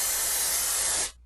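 A can of white spray hissing in one steady continuous burst in Silent Hill 2, loud and close, then cutting off abruptly into silence.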